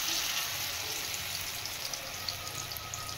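Capsicum pakora frying in hot oil, a steady close hiss and crackle of sizzling batter that continues evenly throughout with no voices.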